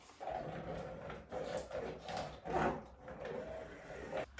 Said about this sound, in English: You put your sealer in it, and then you just roll it on the grout lines.